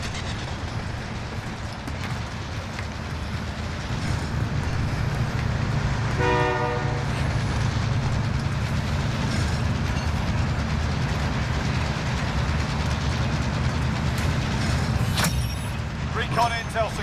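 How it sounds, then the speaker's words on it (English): Train in the shooter game Call of Duty: Modern Warfare rumbles past with a heavy, continuous roar and rattling wheels, a horn sounding briefly partway through, with sharp game effects near the end. "I'm not getting up here to get ran over by the train."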